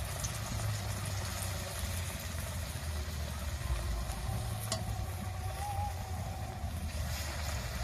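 Battered potatoes frying in hot oil, a steady crackling sizzle with a low bubbling rumble running evenly throughout, close and continuous without talk.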